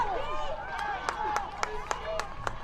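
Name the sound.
football crowd cheering on their defense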